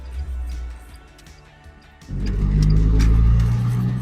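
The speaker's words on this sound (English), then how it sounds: "This car's got a side exhaust, so it is just below my right ear." A 2011 Morgan 4/4 Sport with a 1.6 Sigma engine and side exhaust idles low, then revs up sharply about halfway through into a loud, sustained, close-up engine roar.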